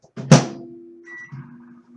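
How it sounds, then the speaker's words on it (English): Microwave oven heating chili: a clunk of the door, then a steady low electric hum with a faint higher tone, running for about a second and a half alone in a quiet room. "I can't get the microwave open."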